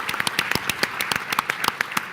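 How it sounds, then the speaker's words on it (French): A seated audience applauds at a business meeting, a brief burst of scattered, fairly close hand claps with an uneven rhythm and no talk over it. "on peut l'applaudir effectivement"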